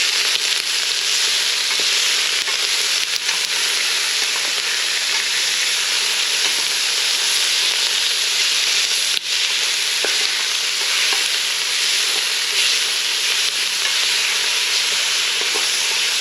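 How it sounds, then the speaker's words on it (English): Beef seasoned with salt and pepper browns in a pan for chipotle chili, giving off a loud, continuous hissing sizzle that holds steady throughout with only faint stirring ticks. "It's going to take me just a few minutes to do the browning here"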